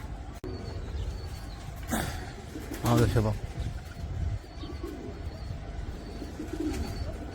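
Pigeons coo near a house rooftop in a low, throaty burst, set among rustling and outdoor background noise as someone talks quietly nearby.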